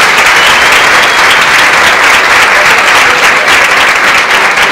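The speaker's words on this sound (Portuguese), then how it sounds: "é impossível a gente não pedir agora um grande aplauso para Ariano Suassuna." Loud, dense applause from a large crowd at an Olympic-themed lecture-performance on sports and body culture, sustained and steady for several seconds with no pauses.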